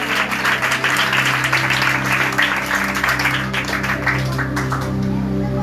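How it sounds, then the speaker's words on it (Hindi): A church congregation applauds together in a dense, steady wash of clapping with a sustained musical drone underneath, loud and continuous. "आइए ताली बजाइएगा।"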